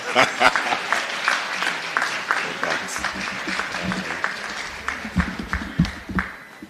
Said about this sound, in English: Another round of applause, ladies and gentlemen, for Dr. Roberts.